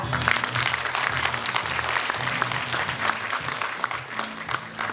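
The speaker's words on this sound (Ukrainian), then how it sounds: "Отож, вітаємо аплодисментами гостей нашого свята." A crowd at a dance festival in Kamianets-Podilskyi applauds as guests are welcomed, with continuous, fairly distant clapping from many people holding an even level for several seconds.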